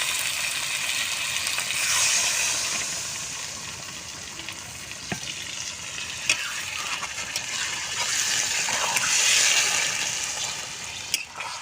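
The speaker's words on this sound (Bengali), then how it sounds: "আমি এবারে জল দেব।" Water goes into a pan of frying jackfruit, potato and chicken stomach, producing a loud, continuous bubbling hiss that swells and eases, with a couple of brief knocks near the end.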